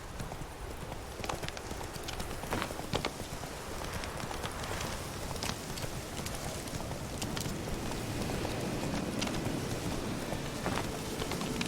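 The horse Roach galloping in The Witcher 3 video game, steady rhythmic clip-clop of hooves over a constant rain-like background hiss, moderately close.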